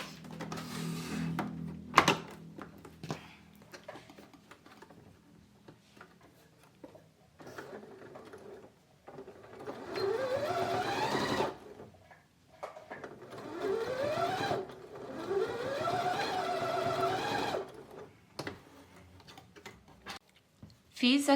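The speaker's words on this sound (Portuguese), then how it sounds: "eu vou passar uma costura reta, ó, bem retinha aqui" A sewing machine stitches a straight seam on a document wallet in several bursts of rapid rising whirring, separated by pauses, with quiet handling sounds and a voice talking at times.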